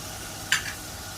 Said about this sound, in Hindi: कोरिएंडर भूनते हुए